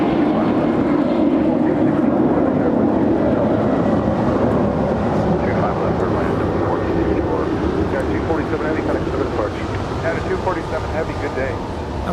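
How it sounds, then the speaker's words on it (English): A United Airlines Boeing 767-300ER departing Los Angeles International Airport makes a loud, sustained jet engine roar with heavy low rumble, and a voice talks over it. "That is a United Airlines 767-300 ER departing to Newark Liberty,"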